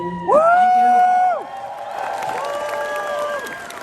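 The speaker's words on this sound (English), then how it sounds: "I shall accept that applause on behalf of everybody who is wearing this yellow lanyard" A convention audience at a closing ceremony applauds and cheers, a loud whooping burst that gives way to a sustained wash of clapping and crowd noise.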